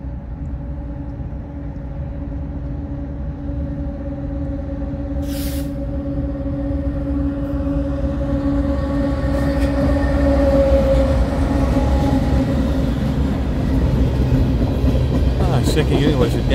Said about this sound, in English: Looks like a unit train of grain going by.